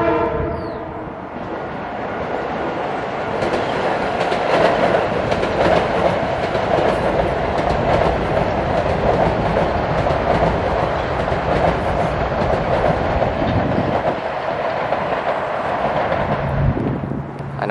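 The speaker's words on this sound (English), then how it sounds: "There's a grade crossing up there and a train coming" A train rumbles past close by near a grade crossing approaching North White Plains, New York, a steady broadband roar with rhythmic rail clatter, loud and continuous for the whole stretch.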